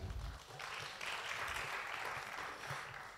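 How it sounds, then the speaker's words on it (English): Applause rises from a conference audience at the Kenya National Theatre, moderate and fairly distant clapping that swells and holds, with some low rumble beneath. "A round of applause for Stuart."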